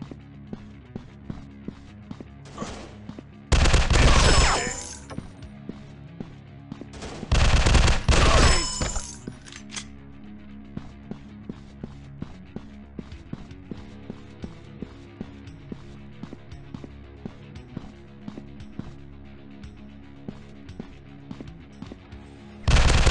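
Two loud bursts of rapid automatic fire from a robot-themed first-person shooter, each lasting about a second, separated by quieter stretches of scattered clicks and footsteps, with a final burst starting at the end.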